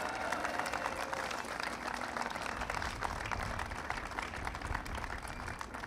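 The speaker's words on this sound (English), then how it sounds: "Let's give her a round of applause." An outdoor crowd gives sustained, even applause for Congresswoman Nita Lowey at a New NY Bridge event, dense clapping that holds steady throughout at moderate distance.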